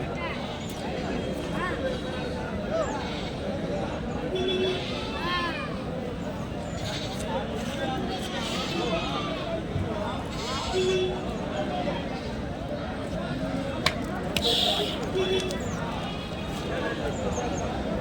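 Several bleating goats call out intermittently amid a busy crowd at a Tuesday livestock market in Kadiri, with people talking nearby and occasional hoof-like clatter in the background.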